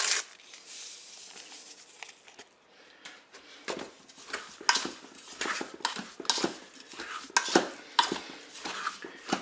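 Apricot jam with vanilla sugar being stirred in a Cookeo multicooker, with irregular scraping and clinking of a utensil against the pot that starts faint and grows louder and busier.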